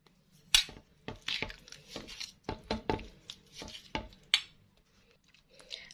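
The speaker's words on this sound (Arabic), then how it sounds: "انا هضيفها معاكم كده وهقلبها معاكم" Cheese salad ingredients stirred together in a bowl, with a run of clinks, scrapes and soft utensil knocks in uneven rhythm, close and moderately loud, and no talking.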